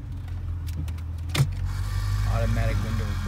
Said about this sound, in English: Automatic windows, bro.